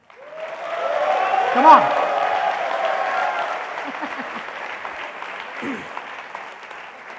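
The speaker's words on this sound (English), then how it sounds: "Shall we have a thunderous round of applause" A crowded audience at a motivational talk breaks into sustained applause, dense clapping filling the room for several seconds while a voice briefly calls out over it.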